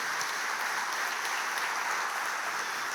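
A church congregation breaks into continuous applause during a sermon, with dense, even clapping sustained at a moderate level throughout.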